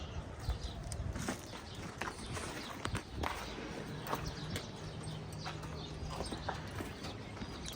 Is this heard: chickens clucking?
no